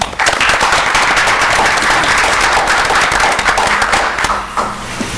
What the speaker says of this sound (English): we'll give a round of applause for